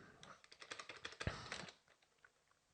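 Fast typing on a computer keyboard, a quick run of soft, close key taps that peaks with a sharper stroke midway and trails off into a few scattered presses, quiet and without speech.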